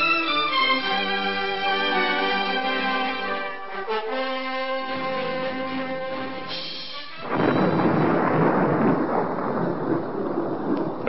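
Storm thunder in an old radio drama about an aircraft emergency at high altitude, a loud rolling rumble that bursts in after a stretch of tonal music and carries on to the end.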